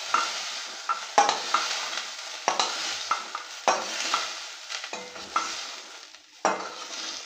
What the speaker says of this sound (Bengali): সয়াবিনটাও ভাজা হয়ে গেছে, উঠিয়ে নিচ্ছি